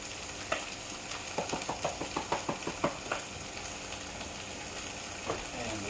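Green peppers with garlic sizzle and fry in a pan, with a quick run of rhythmic scraping stirs in the middle and a few scattered scrapes, close and moderately quiet over a steady hiss.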